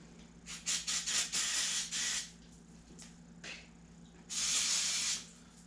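An aerosol can of lubricant cleaner, used while working on a push mower with a stuck float, hisses in several short bursts and then one longer spray, close by over a low background hum.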